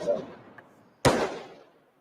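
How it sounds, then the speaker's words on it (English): A firework at a protest in downtown Atlanta goes off as a single sharp, loud bang that echoes and fades, preceded by fainter crowd noise. "It's fireworks."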